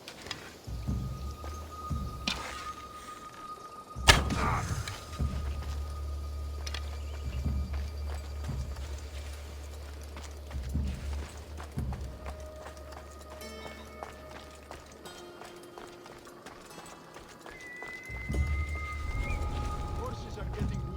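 Rhythmic clip-clop of horse hooves in the video game Assassin's Creed Odyssey, steady and moderately loud, with a low rumble and faint musical tones in the background.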